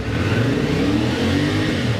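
A CF Moto 450 SR motorcycle engine, a 2024 model, revs steadily and loudly at close range, a continuous mid-pitched drone with little variation and no voices.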